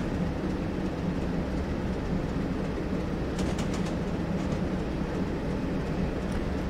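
A diesel multiple unit train on the East Coast Main Line in Train Simulator 2019 slows down, with a steady rumbling roll and faint clicking from the rails throughout and no talk.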